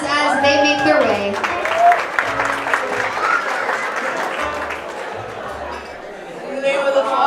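Wedding reception guests break into warm, sustained applause indoors, many hands clapping together while chatter and a few children's voices carry through the crowd.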